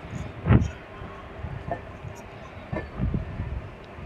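Passenger train on the Narasapur to Varanasi run, a steady low rumble and rattle from inside a general coach, with a few louder knocks and gusts of wind noise, no voices.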